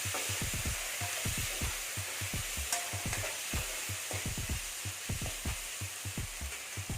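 Spoon stirring turmeric powder into onion masala frying in a pan for a green pepper fish fry, a steady rhythmic scraping over continuous close sizzling, with no voices.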